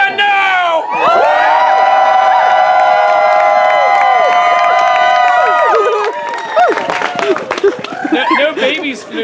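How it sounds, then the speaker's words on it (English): A theatre audience at a Shakespeare performance of The Tempest erupts in loud crowd cheering, whooping and shouting with some whistles, sustained for several seconds before breaking into scattered claps and chatter. "hoot, holla, clap, cheer, stomp your feet, whistle"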